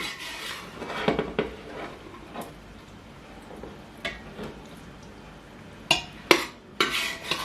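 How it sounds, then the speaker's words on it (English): Cooked beans scooped from a pressure cooker into a stew pot produce intermittent scrapes and sharp metallic clinks of a utensil against the pots, alone and fairly quiet between the knocks. "So I have to take out the beans from the pressure cooker and transfer it into the stew."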